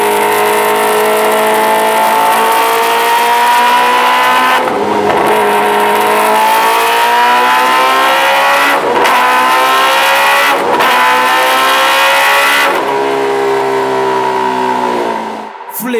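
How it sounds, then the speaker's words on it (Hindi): Supercharged motorcycle engine revving hard and continuously, with rising and falling revs, a whining supercharger spooling over the loud near exhaust roar, and brief sharp throttle blips throughout. "ये सुपरचार्जर जो स्पूल हो रहा है, आई लव इट।"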